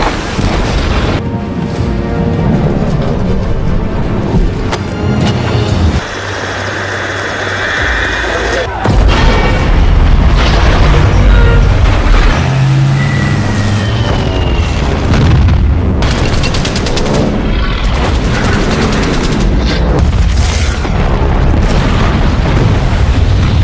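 Loud cinematic explosions and booming blasts from the Japanese attack on Pearl Harbor, with heavy rumbling impacts, shattering debris and bursts of gunfire-like crackle continuing throughout, dense and close.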